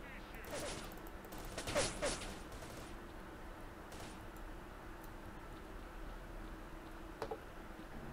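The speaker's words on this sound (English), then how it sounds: "I don't know where they're shooting me from." Faint, distant gunshots crack in S.T.A.L.K.E.R. Shadow of Chernobyl, a handful of brief irregular bursts over a low, steady background.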